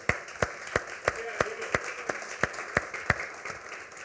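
A church congregation claps in steady unison during a Spanish-language sermon, about a dozen sharp, evenly spaced claps at moderate volume over a constant murmur of crowd noise.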